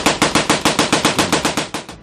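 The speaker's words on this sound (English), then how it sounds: "MAXIM machine gun" A Maxim machine gun fires a rapid, even burst of about a dozen loud, close shots in steady rhythm, each crack trailing into the next.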